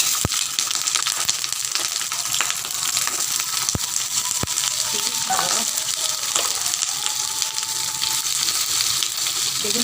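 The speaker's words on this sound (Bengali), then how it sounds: "আগে না বেগুনটা ভাজি করে তারপর তরকারি করবো ওই তেলের ভিতরে।" Eggplant frying in oil in a home kitchen, a steady loud sizzle and crackle that runs throughout, with a few sharp clicks and faint stirring noises over it and no talking.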